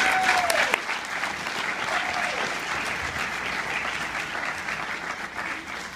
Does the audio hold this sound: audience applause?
yes